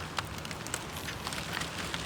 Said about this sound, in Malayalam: മഴ പെയ്തു നല്ല മഴ പെയ്തു തുടങ്ങി